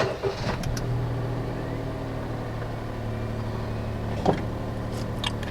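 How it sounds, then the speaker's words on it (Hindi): A Daihatsu Move's engine cranks and catches after an ECU reset, then settles into a steady low idle close by, with a brief sharp blip a few seconds in and no talking. "अब कार स्टार्ट करते हैं अल्लाह का नाम लेके।"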